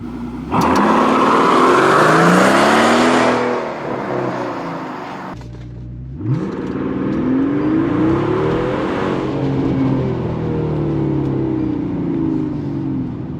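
A loud Mercedes S65 AMG V12 engine revs and accelerates, pitch sweeping upward, drops off briefly, then surges and climbs again in repeated rising whines.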